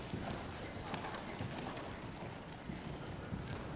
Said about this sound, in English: Okay, and then half circle and half pass. Let your hips down in the saddle, Hannah.